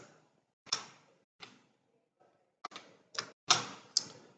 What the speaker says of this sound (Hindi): नीचे कैप्चा कोड को टाइप करें।